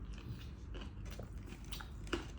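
Crunchy bites into crisp roast lechon belly skin, with close, dense crackling chews running steadily and one sharper crack near the end, no talk over it.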